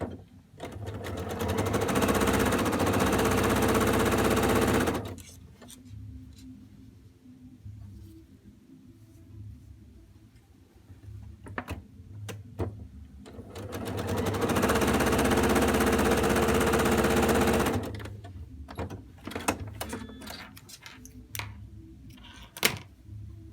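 A sewing machine stitches quilt pieces in two long runs of steady, fast mechanical whirring, separated by quieter moments of clicks, fabric handling and small taps.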